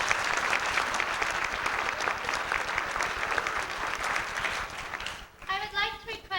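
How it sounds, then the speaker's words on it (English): A large audience at a 1992 high school National Honor Society awards night gives sustained, dense applause for several seconds. The clapping fades near the end as a voice starts speaking. "they deserve a big round of applause"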